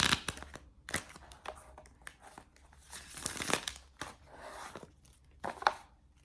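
Quick papery riffling and crinkling of tarot cards being shuffled, a few short bursts with brief pauses between, close and fairly quiet.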